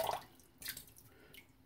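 Water drips from a wrung-out synthetic shaving brush over a sink, a quick cluster of light, close drips followed by a couple of fainter splashes.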